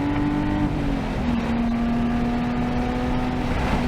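A modified Nissan 370Z runs on a hot race track, its engine droning loud and steady with a sustained tone that dips slightly and then holds, heard from close by with no talk.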